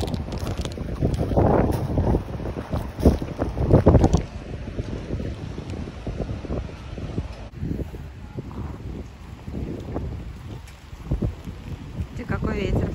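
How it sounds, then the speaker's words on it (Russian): Steady rising wind rushes and buffets the microphone outdoors on a riverside embankment in Kyiv, with a person talking intermittently over the gusty noise. "Ветер поднялся."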